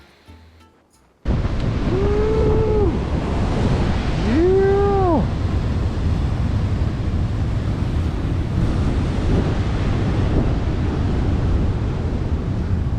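Ocean waves break and wash along an intertidal shore, a loud continuous roar of surf with gusty wind buffeting the microphone after a brief quieter opening, and a few faint tonal squeals drifting through.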